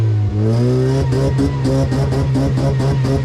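Car engine at a night racing meet in Tuszyn, revving hard in a string of rapid, rising bursts, loud and close over a steady low roar.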